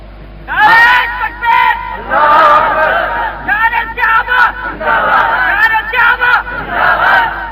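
Dense crowd of voices chanting slogans together in loud, rhythmic surging bursts, repeated steadily from near the start to the end with brief gaps between phrases.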